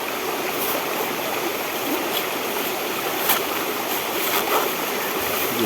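Steady rushing water of a flowing mountain river, a continuous broadband hiss with faint splashes, no voices.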